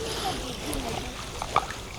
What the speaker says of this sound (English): I'm just gonna dip my feet into the water